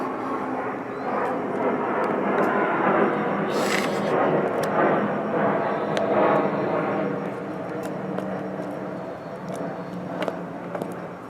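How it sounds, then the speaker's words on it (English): An airplane passing overhead near an airport sends a loud, broad engine roar that swells and slowly fades over several seconds, heard over faint tapping and shop noises in a woodworking workshop. "It's pretty apparent I live somewhere near an airport, huh?"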